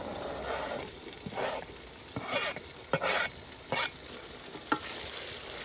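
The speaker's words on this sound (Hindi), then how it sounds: "फ्रेश लहसुन की भी अच्छी तरह बुनाई करेंगे" Fresh garlic frying in a pan, a soft steady sizzle broken by several sharp scrapes and clinks of a spoon stirring, fairly close.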